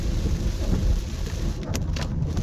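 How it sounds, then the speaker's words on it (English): Heavy rain pouring down during a hike in Galloway forest, a dense steady wash of noise with low rumbling, continuous and fairly loud. "the rain's coming down heavy now"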